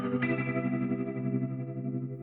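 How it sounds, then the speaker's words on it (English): Electric guitar sounds a sustained C major 7 chord through a tremolo effect, one strummed chord ringing and slowly decaying with a steady pulsing shimmer, clear and alone. "I'm using some tremolo on our guitar, which creates this rhythmic effect we hear."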